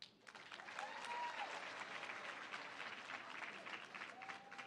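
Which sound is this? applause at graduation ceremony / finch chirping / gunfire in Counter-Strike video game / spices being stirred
applause at graduation ceremony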